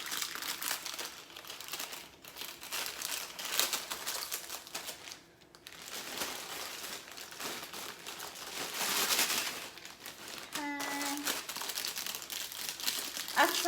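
Continuous crinkling of a plastic bag as buttered crackers are crushed inside, crunchy and close up, steady, with a few louder rustling swells and no voices.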